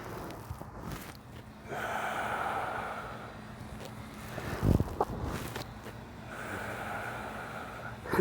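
Steady breaths in and out during a seated twisting torso exercise in a flexibility workout, with soft airy inhales and exhales repeating in an even rhythm, close and moderately quiet.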